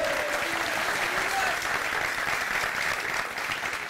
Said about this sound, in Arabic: صفقوا على التكتونيك.